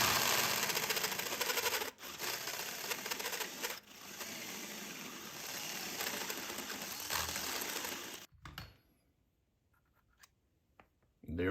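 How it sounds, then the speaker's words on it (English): A tool cutting down into a plastic lug nut cap on a wheel, a loud steady grinding buzz for about eight seconds with brief pauses, then stopping abruptly into near quiet. "what we need to do is cut down into this cap so we can just pull it off and expose the actual lug nut"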